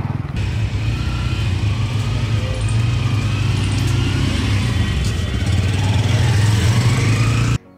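A Bajaj Pulsar N150 motorcycle being ridden on a rough road, its engine giving a steady, loud, low drone with rushing wind noise throughout, holding fairly constant before cutting off abruptly at the end.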